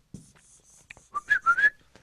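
A person whistles a short tune indoors during a class, a few soft breathy notes followed by several louder, clearer pitched notes, close and alone with no talking.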